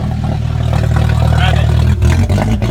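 A lowered car's engine held at a steady, loud, throaty idle close by, dipping briefly toward the end as if blipped, with someone talking over it.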